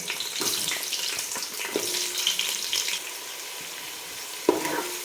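Thinly sliced onions are added to a pot of whole spices and begin frying, with a soft continuous sizzle, light clinks and scraping, and a sharper clatter near the end, with no voices.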